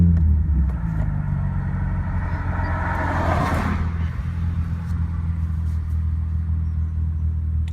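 Infiniti G35 coupe engine idling steadily after a start, a loud, close, continuous low rumble with a brief rise in the middle, no talking.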